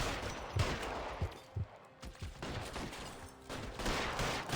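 Scattered gunfire during a shootout in L.A. Noire Remastered: several fairly quiet, irregular shots and short bursts popping over a low background.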